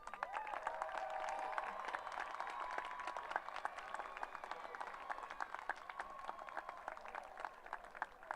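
Sustained applause from a graduation ceremony audience, steady dense clapping from a large crowd that holds through the whole stretch with no talking over it.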